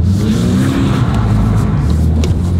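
A Toyota GR86 with an aftermarket exhaust revs its engine, a loud, close, throaty drone that rises and holds steadily for a few seconds.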